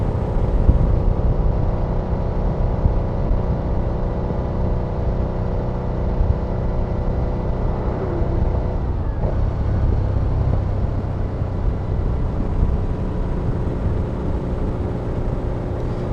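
A 2008 Harley-Davidson V-Rod Night Rod Special motorcycle engine drones steadily and loudly throughout, a continuous low rumble with a slight dip in pitch midway, no voices.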